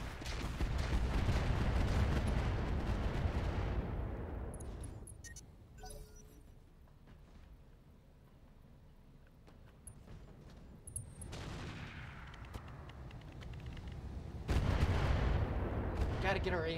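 Heavy weapons fire in the BattleTech mod RogueTech, with loud booming barrages in the first few seconds, a quieter lull, then renewed dense blasts and rumble toward the end.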